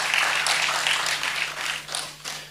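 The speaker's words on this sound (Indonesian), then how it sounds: "Boleh tepuk tangannya di extend buat para worship leaders, singers, dan musicians" A church congregation applauds the worship leaders, singers and musicians after the service's singing, a loud, dense burst of clapping that swells and then tapers off with a final flurry, no voices over it.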